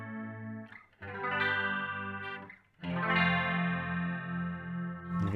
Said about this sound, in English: can hear that almost chorus-like effect